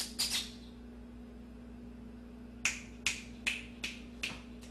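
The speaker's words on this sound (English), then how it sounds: "So they often come when I snap my fingers as well." Finger snaps calling a pet cat named Rumble: two quick snaps at the start, then five evenly spaced sharp snaps close by after a short pause, with a steady low hum underneath.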